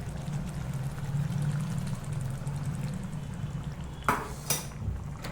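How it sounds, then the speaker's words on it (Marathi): Hot water is poured into a thick paneer masala curry in a home kitchen, a low continuous pouring rumble followed by two sharp clanks of a metal pot or utensil near the end. "तर मी इकडे गरम पाणी केलेलं आहे टाकून घेते"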